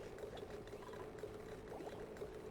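A steam vent erupts in the colony game Oxygen Not Included with a steady, quiet gushing hiss and a faint low hum that runs evenly throughout.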